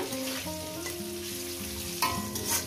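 Vegetables frying with salt in a hot pan give a close, continuous sizzle with a brief stir-scrape near the end, heard alone without any talking.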